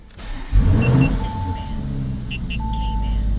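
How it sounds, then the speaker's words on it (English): Lamborghini Urus twin-turbo V8 firing up after an oil change, a sudden start burst settling into a deep steady idle, with a few faint electronic chimes from the car alongside. "We're going to turn on the vehicle with the new oil."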